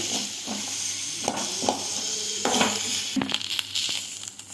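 Ivy gourd pieces frying in a pan as they are stirred, a soft steady sizzle with scattered scrapes and knocks of a spoon against the pan at an uneven pace.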